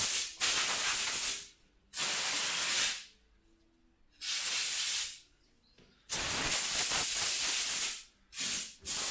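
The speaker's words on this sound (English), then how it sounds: "A bit of compressed air. Just to clean up that rivet dust." Compressed air blows rivet dust off a restored Crypton Motorscope 335, in five or six loud, close bursts of sharp hissing, each lasting about one to two seconds and separated by short silences.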